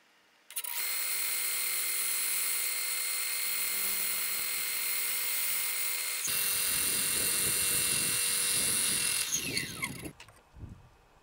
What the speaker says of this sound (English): That'll allow me to rotate that against the disc sander.